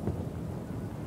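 Rain and low thunder rumble fill a video game scene in *Best Month Ever!*, a dense, close storm wash heard briefly and alone.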